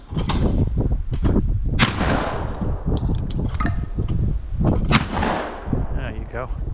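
A shotgun fires at clay targets outdoors, several sharp loud blasts spaced a second or so apart with echoing tails, and voices talk faintly between shots.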